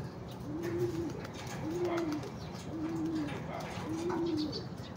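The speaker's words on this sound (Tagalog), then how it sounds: "Pag kumagano ng mga kalapate, uulan yan." Pigeons cooing nearby, four evenly spaced low, soft coos about a second apart over a quiet outdoor background.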